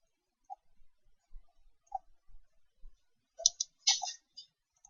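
A computer mouse gives scattered sharp clicks, alone and close by in a quiet room, as someone works in CAD software on a building facade.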